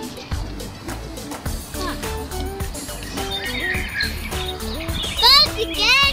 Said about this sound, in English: Birds again.